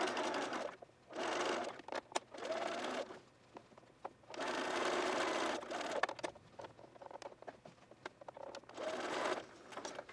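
A sewing machine stitches a dress lining to its outer shell in several quick whirring runs, each a few seconds long and separated by short pauses, heard fairly quietly and close.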